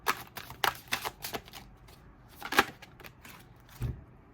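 Tarot cards are shuffled by hand to draw a clarifier, giving a run of quick papery riffles and soft flutters, then a louder snap and a final thud as the deck settles, with no one talking.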